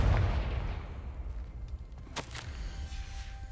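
A Confringo fire spell explodes in the video game Hogwarts Legacy, one sharp crack followed by a short crackling burst over a low rumbling game backdrop, no talking.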